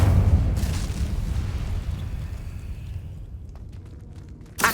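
Incendio fire spell explosion in Hogwarts Legacy bursts with a heavy, deep boom, then a rumbling tail that thins into quiet, followed by a second sharp impact right at the end.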